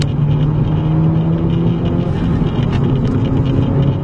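Volkswagen car accelerating to overtake on a test drive, heard from inside as a loud, constant engine and road roar that holds steady throughout, with no voices.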